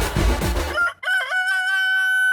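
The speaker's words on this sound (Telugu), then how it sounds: "కోడి వచ్చింది" A rooster gives one loud, drawn-out crow, close and clear, right after a short burst of noisy sound on a comedy stage show.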